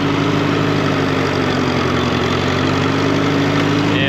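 A tractor engine suspected of a fault in the left final drive runs loud and close. The steady idling rumble carries a constant mechanical vibration throughout.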